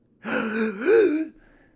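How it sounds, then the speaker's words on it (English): A person gasps loudly and sharply, a voiced intake of breath that rises in pitch and then fades, heard close and alone. "Gasp!"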